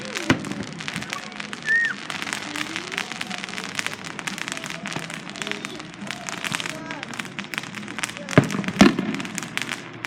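Fourth of July fireworks crackle and pop in dense, rapid bursts over a steady background, with a few louder bangs near the end and voices faintly heard.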